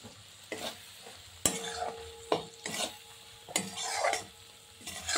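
A spoon stirs green peas and slit green chillies into moong dal frying in a pan over low to medium heat, with several distinct scraping strokes against the pan over a steady soft sizzle.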